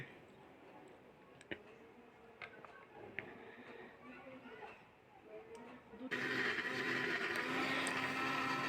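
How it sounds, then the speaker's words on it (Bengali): Carrot and milk whir in an electric blender that switches on abruptly partway through and roars loudly and steadily to the end, after a stretch of quiet ticks and faint voices. "তারপর আবার এটার মধ্যে দুধ দিয়ে ভালোভাবে ফাইনালি ব্লেন্ড করে নেবে"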